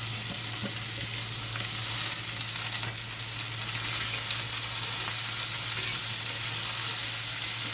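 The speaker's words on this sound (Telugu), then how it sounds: "దొండకాయలు వేస్తున్నాను ఈ కళాయిలో." Homegrown native ivy gourd frying with onions in a kadai, a loud, continuous close sizzle and hiss with occasional stirring scrapes, and no voices.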